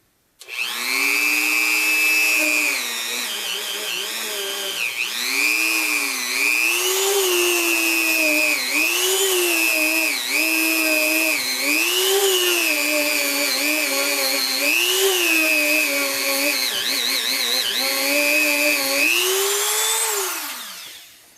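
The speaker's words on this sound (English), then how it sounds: "Now I'll just take a Scotch-Brite wheel on a Dremel and clean out the pushrod tube seal, the seating area." Dremel rotary tool with a Scotch-Brite wheel cleaning the pushrod tube seal seating area of an engine, a loud, close high-pitched whine that rises and dips as pressure changes, running continuously for about twenty seconds alone.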